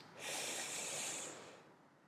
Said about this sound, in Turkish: Her nefes alış bir yükseliş.